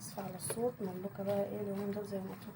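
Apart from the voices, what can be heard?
No everyday noises stand out.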